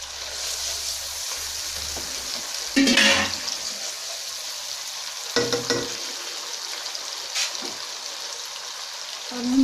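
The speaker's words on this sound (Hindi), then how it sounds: "तकरीबन मीडियम टू लो फ्लेम पे हम इसको 3 से 4 मिनट पकाएंगे।" Masala for mixed dal frying in a pan over a medium-low flame, with a steady close sizzle throughout and a few louder bursts of stirring and spatula scrapes.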